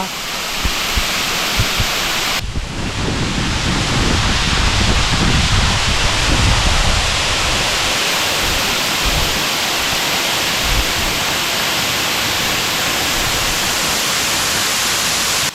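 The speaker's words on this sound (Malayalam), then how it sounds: "കിടിലൻ വെള്ളച്ചാട്ടമല്ലേ?" The Urakkuzhi waterfall roars loud and close, a dense, unbroken rush of falling water mixed with gusting wind and spray, steady for the whole stretch, with faint voices in the background.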